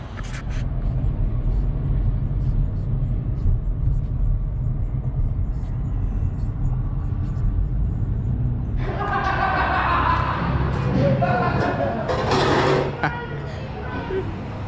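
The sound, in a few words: Dodge Challenger Scatpack engine, JBA long tube headers, straight pipe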